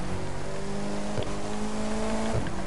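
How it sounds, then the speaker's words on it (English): A Mercedes-AMG engine revs close by, a steady droning note with two brief blips of throttle that lift the pitch, under a constant background rumble. "Guys, you hear that dead AMG, yeah?"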